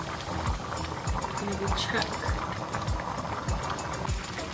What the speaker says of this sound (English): you can just see little bubbles popping there, here and there